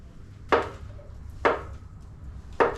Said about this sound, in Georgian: ვჭრით სოკოს.